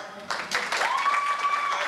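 Sports fans in a fundraiser audience break into applause, a burst of clapping that swells after a brief pause and continues steadily, with a faint tone running underneath.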